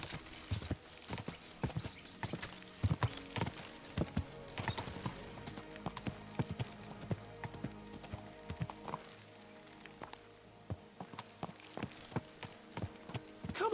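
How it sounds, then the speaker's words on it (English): Horse hooves clip-clop steadily in Kingdom Come: Deliverance II, a rhythmic stream of close, crisp hoof strikes that pauses briefly before resuming. "Come on then. A ride. Easy, good horse."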